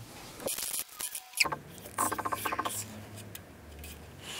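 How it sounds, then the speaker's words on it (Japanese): Paper crackles and tears as it is peeled off an airsoft target, with a quick series of ripping pulls followed by softer rustling, all close up. "加圧式になっているので表面の紙を剥がします。"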